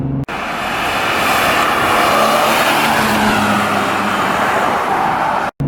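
Loud, continuous raspy exhaust note from an E46 BMW M3, steady and close for several seconds, with a brief cut near the end and no talking.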